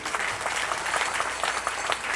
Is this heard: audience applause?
yes